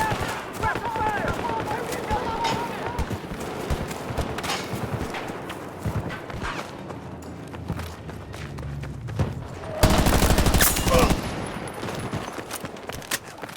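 Rapid gunfire from the Battlefield 2042 Portal game's Battlefield 3 weapons comes as clattering bursts, with one loud sustained volley near the end, mixed with in-game shouting and movement noise.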